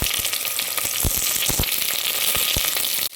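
Chopped onions, ground tomato and curry leaves frying in a pan for a vegetarian curry, with a steady loud sizzle broken by frequent crackling pops and stirring clicks throughout.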